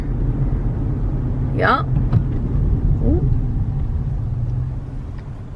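A car idling and crawling along in traffic: a steady low engine and road rumble fills the clip, with a person talking briefly over it.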